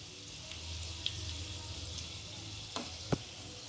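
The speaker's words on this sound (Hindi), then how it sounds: "अब हम इसे आराम से फ्राई कर लेंगे" Potli modak frying in oil for a Ganpati prasad: a quiet, even hiss of bubbling oil throughout, with a couple of faint clinks near the end and no speech.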